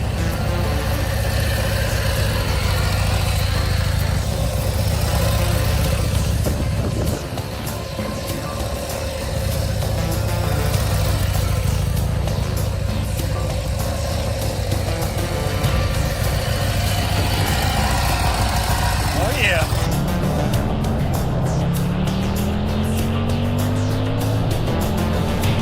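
A racing motorcycle engine idles steadily up close, a continuous low rumble that holds for most of the stretch before a rising rev or whine near the end.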